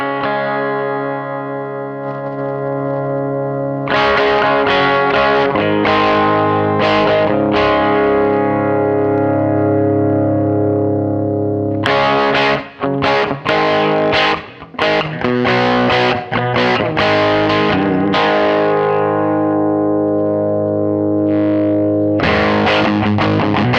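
Electric guitar played through an EVH 5150 III micro stack amp with heavily distorted, chorus-tinged tone: sustained chords, then bursts of chugging riffs and ringing notes separated by brief pauses.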